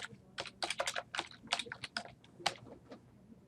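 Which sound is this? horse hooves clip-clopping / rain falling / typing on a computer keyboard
typing on a computer keyboard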